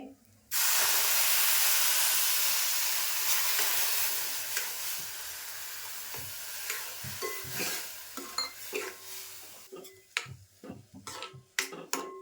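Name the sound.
milk poured into roasted rice in a pan for kheer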